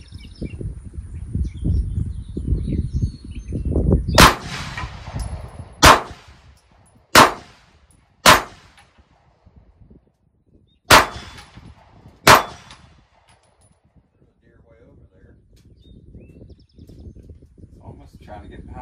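A Canik pistol with a new recoil spring fires at targets: six loud, sharp shots about a second or more apart, each with a ringing metallic crack. A voice talks just before the first shot, and faint outdoor noise lingers afterward.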